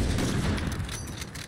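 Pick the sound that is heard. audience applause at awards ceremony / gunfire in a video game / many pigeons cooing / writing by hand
gunfire in a video game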